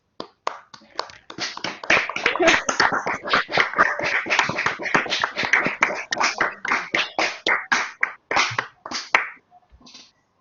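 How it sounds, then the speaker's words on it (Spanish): Attendees of an online academic panel unmute and clap together, giving sparse, uneven hand claps that sound slightly clipped, close and individual, over roughly ten seconds before dying away. "propongo que se desmuteen para aplaudir este panel"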